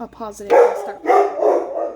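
Several dogs bark in a household in short bursts, fairly close and loud, mixed with someone talking over them.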